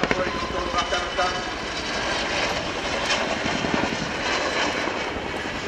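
An RAF Chinook twin-rotor helicopter roars continuously through a flying display, a loud, steady engine and rotor drone that holds for several seconds with no break.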